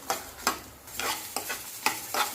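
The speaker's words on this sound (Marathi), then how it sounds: "आता हे खडे मसाले छान असे भाजून झालेले" Whole spices are dry-roasting in a kadhai as they are stirred. Close, rhythmic scraping strokes repeat about six times over a faint crackle, with no voices.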